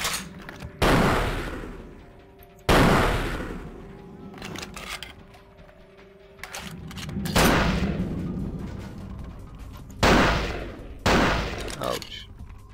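Sniper rifle fire in the video game Vampire the Masquerade Bloodlines: about six loud, sharp gunshots spaced unevenly over several seconds, each with a booming tail.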